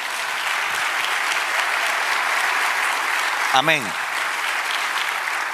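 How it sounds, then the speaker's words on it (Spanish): Steady applause from a church congregation fills the whole stretch, with a single voice calling out briefly partway through. "Dale un aplauso al Señor."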